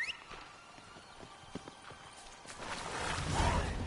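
Roach, the horse in The Witcher 3, clip-clops along in sparse hoof thuds that quicken toward the end, joined by a short whinny near the close, with a faint voice underneath.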